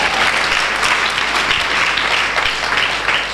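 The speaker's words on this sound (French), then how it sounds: "Est-ce qu'on peut acclamer le Seigneur?" A church congregation bursts into dense, sustained applause for the Lord, many hands clapping together loudly and continuously, filling the room without pause.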